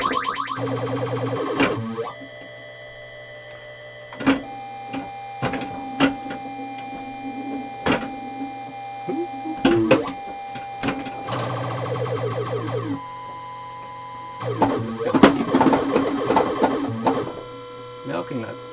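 Williams Flash 1979 pinball machine in play, its spinner whirring in rapid bursts among electronic beeps, tones and mechanical clatter, loud and close, with someone talking over parts of it.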